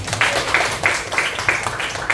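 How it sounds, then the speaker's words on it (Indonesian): A primary-school classroom claps for a student group, steady rhythmic applause from the class with faint room murmur underneath. "Tepuk tangan untuk kelompok 1"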